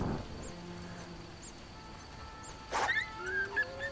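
A green dog monster in The Witcher game gives soft whimpers and yips over a quiet droning game ambience, followed by a brief sharper cry near the end.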